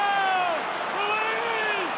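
A stadium crowd at a Brisbane Broncos versus Melbourne Storm NRL finals match roars in a sustained wash of cheering under a commentator's voice.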